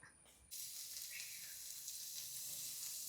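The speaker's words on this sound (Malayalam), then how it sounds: "ഉണക്ക് നമുക്കൊന്ന് പൊരിച്ചെടുക്കാം." Dried fish frying in a pan gives a steady, close sizzle that starts abruptly and holds a bright hiss throughout, with no talk.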